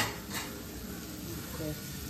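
A soybean dish fries in a pan on a home stove, giving a soft, steady sizzle with faint stirring scrapes and clinks, heard alone at low volume.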